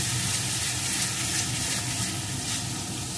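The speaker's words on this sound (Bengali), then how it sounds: "এখন আবারও কিছুক্ষণ ভালো করে কষিয়ে নেব।" Chicken and spices sizzle steadily in a pan while being sautéed for a black pepper chicken curry. The frying hiss is loud and close, and it holds without a break.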